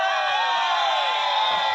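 A crowd cheers and shouts with many overlapping voices, including whoops and what sound like children's cries, sustained at close range throughout.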